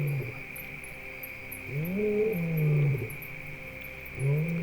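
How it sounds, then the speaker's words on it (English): A lion roars at a distance in southern African wildlife country, a few deep, drawn-out calls that swell and fade over steady background hiss and insect noise. "Hearing a lion roar in the distance, the hyena prefers to move away."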